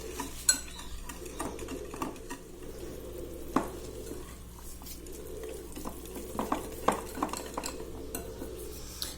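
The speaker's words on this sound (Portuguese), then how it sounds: "E aqui a gente continua misturando" Brigadeiro cake batter being stirred in a bowl, a steady scraping and clinking of the utensil against the bowl with irregular sharper knocks, close and moderately loud with no talking.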